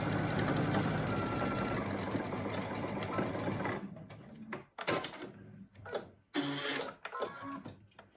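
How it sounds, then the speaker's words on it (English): A sewing machine stitches a 1/4 inch seam along the curved edges of a surgical mask, a steady whirring run for about four seconds, then a series of shorter stop-start bursts as the fabric is guided around the curve. "Now you need to sew down both of these curved edges with a 1/4 inch seam"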